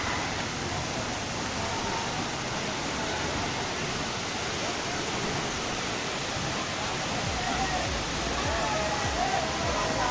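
Godhas waterfall in Nuapada, Odisha roars as a steady, dense rush of falling water that fills the whole scene without pause, with a crowd of visitors around on a busy day.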